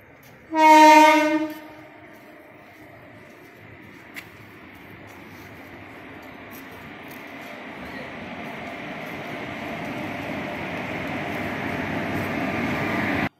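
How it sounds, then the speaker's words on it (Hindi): The Chitrakoot Express, running from Jabalpur to Lucknow, sounds a loud, long horn blast near the start as it arrives at platform 1, then its rumble and rolling wheels build steadily closer and louder over the rest of the clip. "जबलपुर चलकर लखनऊ को जाने वाली चित्रकूट एक्सप्रेस 1 नंबर प्लेटफॉर्म पे आ रही है"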